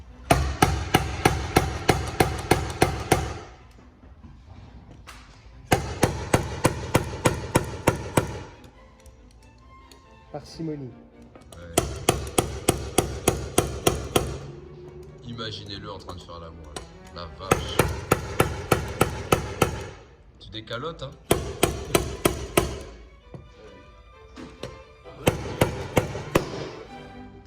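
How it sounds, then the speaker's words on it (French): An inertia slide hammer pulls dents from a vandalised Audi RS4 body panel, rapid metallic knocks in bursts of a few seconds each, separated by pauses, with people talking during the gaps. "Marteau à inertie."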